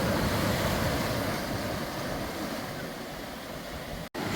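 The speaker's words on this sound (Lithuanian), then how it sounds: "Bangų mūša." Sea waves wash onto the shore along the Budva coast in Montenegro, a steady roaring surf with wind buffeting the microphone, close and loud.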